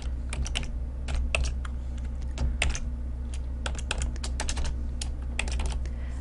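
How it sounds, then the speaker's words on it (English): Steady typing on a computer keyboard while entering Excel VBA code, with irregular clusters of key clicks and a few pauses between bursts over a low background hum, close and moderately loud with no talking. "So let's type range"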